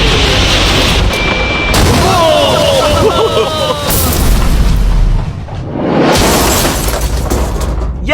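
A heavy explosion booms and rumbles loudly with crackling debris, while excited voices shout over the blast.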